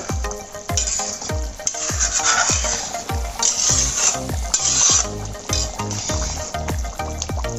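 Egg and potato curry with tomato being stirred in a pan, a steady run of scraping strokes and thumps of the spoon over a continuous sizzle, close and fairly loud with no talking.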